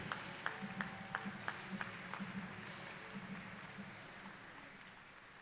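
Scattered audience claps at a Canadian swimming trials finals honouring Team Canada's para swimmers, a few sharp hand claps at first, then thinning into a faint, distant patter that fades out.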